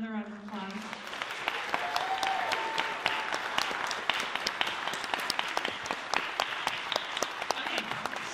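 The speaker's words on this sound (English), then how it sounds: "Can we give them another round of applause?" A theater audience at a Shakespeare monologue and scene contest breaks into sustained applause, dense crowd clapping building after a brief voice and continuing loud and steady, with scattered louder individual claps.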